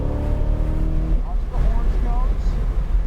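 A C8 Corvette accelerates on the Atlanta Motorsports Park race track, its engine a steady, loud low drone with strong harmonics that holds throughout, while someone speaks over it partway through.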